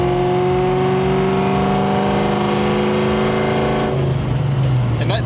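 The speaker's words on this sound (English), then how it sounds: "But then if I give it a little more gas, it gets a little raspy." Cammed Terminator Cobra V8 idling with a steady harmonic drone, then given more gas so the revs rise into a raspier, louder tone near the end; close and loud, with no talk.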